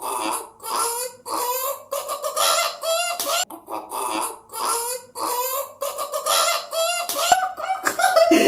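During an animal sound challenge card game, a person mimics a chicken with a long series of loud, close, clucking and squawking bursts separated by short pauses, with a little laughter near the end.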